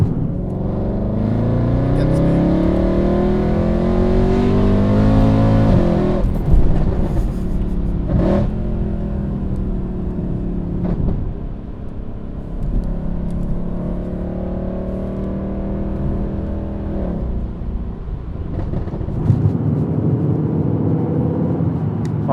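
A supercharged 750bhp Mercedes C63 accelerating hard, its engine note rising steadily through the gears with a clear upshift, loud and continuous from inside the car, with a voice talking over it.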